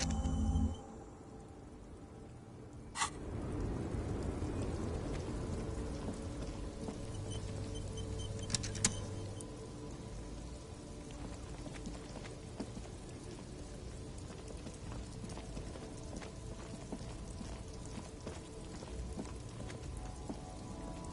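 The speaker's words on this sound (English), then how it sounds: "Stuck in the rain in a traffic jam" Steady rain patters on surfaces in the video game Disco Elysium, a dense continuous wash with a couple of sharp drips or knocks early on and no voices.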